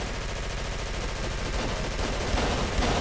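Sustained automatic gunfire in Call of Cthulhu: Dark Corners of the Earth, a dense rapid rattle of covering fire that runs throughout and grows slightly louder near the end, with a couple of heavier shots and no talk.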